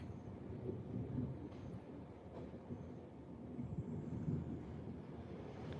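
Heavy rain and thunder outdoors, heard as a quiet, continuous low rumble with a dense, muffled downpour texture and no voices.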